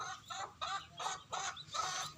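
A hen with newly hatched chicks clucking in a steady series of short, soft bursts, fairly faint and evenly spaced, with no talking.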